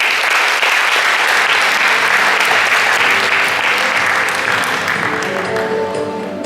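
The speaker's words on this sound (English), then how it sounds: "let's welcome Professor Hsing with a warm round of applause" Loud, dense applause from a lecture audience welcoming a visiting astronomy professor at a university event in Taiwan, sustained and even for about six seconds before tapering slightly at the end.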